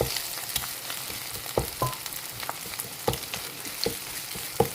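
Kottu parotta, chopped parotta with egg and coriander, frying on a griddle: a steady sizzle with sharp metallic knocks and scrapes from stirring scattered throughout, close up and unaccompanied by voices.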